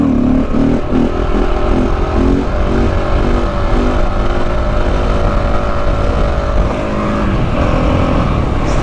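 A KTM 690 Enduro motorcycle engine drones loudly and continuously under way off-road, a steady close-up rumble with shifting rev pitch and wind noise throughout.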